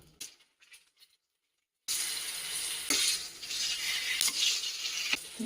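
Eggplant frying in oil, a loud close sizzle that starts abruptly after a few soft clinks and a moment of silence, then holds steady with crackling pops and stirring.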